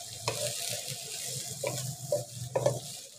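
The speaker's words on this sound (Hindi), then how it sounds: "मीडियम लो पे मैं कर रही हूँ फ्राई" Kachnar keema frying over medium-low heat in a pan, a soft steady sizzle with a few sharper scrapes of stirring near the end, close and fairly quiet with no talking.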